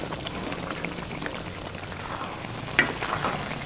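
Butter and tomatoes fry gently in a pan, giving a soft continuous sizzle, with a faint scrape of stirring and one sharper clink near the end.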